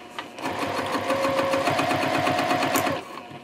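A sewing machine bastes layers of fabric for a sling's gusset, stitching 1/8 inch from the edge at a 3.0 stitch length; the motor hums in a steady, rapid run for about two and a half seconds, close and clear.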